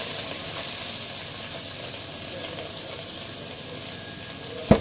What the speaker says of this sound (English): That goes into a frying pan for literally 2 minutes with some oil